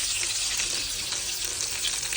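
Breaded meat cutlets, Italian carne fritta impanata, sizzle steadily in hot oil in a pan, a loud continuous crackling fry with no pauses and no talk.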